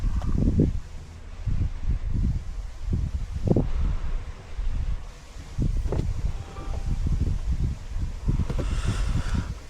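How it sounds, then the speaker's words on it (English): Cold outdoor wind blows in gusts, rumbling against the microphone with soft rustling, moderately loud and steady throughout. "The weather here, it's gotten really windy and cold."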